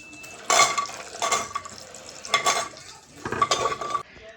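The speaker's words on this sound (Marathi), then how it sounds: "थोडंसं तूप घेतलं त्याच्यामध्ये मी हे अंजीर आहे ते टाकते" Figs stirred and roasted in ghee in a pan, with bursts of scraping and clinking from a utensil against the metal in four distinct stirring bouts, close and moderately loud, with faint sizzle between.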